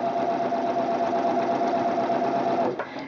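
A sewing machine stitches elastic onto fabric for a wine bottle gift bag, giving a close, steady, rapid whirring hum that runs without pause before stopping abruptly.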